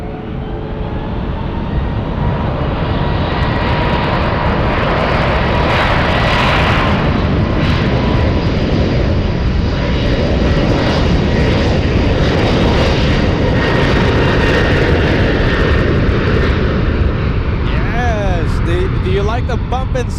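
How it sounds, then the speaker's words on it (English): A United airliner jet departing SFO bound for Chicago, a loud sustained engine roar holding steady for the whole span as it powers down the runway, heard from nearby. "I can't wait to hear those 777s take off and their, Pratt Whitney engines and Rolls-Royce engines"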